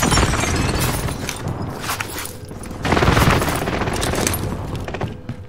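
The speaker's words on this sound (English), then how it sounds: "Enemy precision airstrike." Precision airstrike in a multiplayer shooter video game: dense, continuous rumbling blasts and crackling impacts fill the whole stretch, swelling louder midway, with no clear talk over it.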